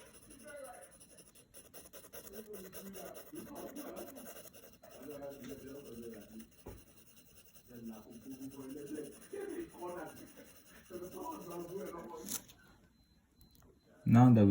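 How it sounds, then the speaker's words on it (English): A 2B pencil shades very lightly over paper in soft, repeated scratchy strokes that come in short bursts with brief pauses, faint and close, while a person talks over much of it. "take your 2B pencil and go lightly, shade very lightly over whatever you're doing"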